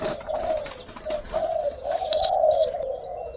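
Malay pigeons in a breeding loft cooing in soft, continuous rolling calls, close and moderately loud against faint background noise.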